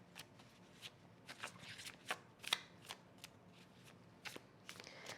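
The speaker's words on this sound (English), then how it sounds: "Let's pull a card in support of strength." Tarot cards are shuffled close up in soft, papery bursts, with several riffles and flicks spread unevenly across the stretch and no talking.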